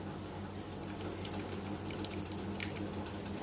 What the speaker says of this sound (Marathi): हे वरचं पाणी आपण असंच ओतून द्यायचं हे बघा